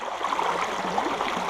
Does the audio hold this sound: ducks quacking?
no